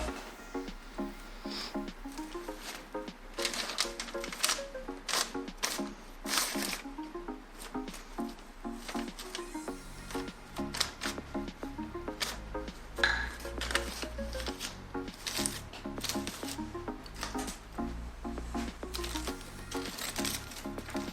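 Aluminium foil crinkles and rustles in quick irregular bursts as it is folded around hair for highlights in a salon, close and fairly quiet, over a steady music bed.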